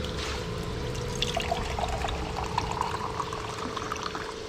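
Steady water flow from a pump pouring and splashing continuously, a constant rushing stream with a faint mechanical hum underneath.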